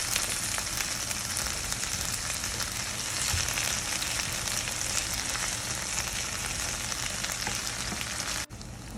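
Ackee and saltfish, a Jamaican dish, sizzles and fries steadily in a pan while being stirred, a dense close crackle that holds at an even level throughout and stops abruptly near the end.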